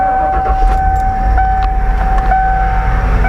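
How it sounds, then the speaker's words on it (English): Used, rusty Ford F150 XLT pickup engine idling after starting, a loud, steady rumble with a constant tonal whine and light metallic rattles throughout, with no talking. "the car starts up on a dime"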